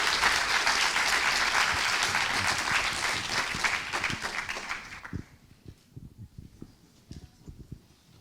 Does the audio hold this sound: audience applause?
yes